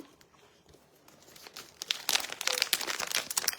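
A plastic package of dried fish (tuyo) being opened, with soft crinkling that swells into loud, close crumpling and tearing of the wrapper during the last half.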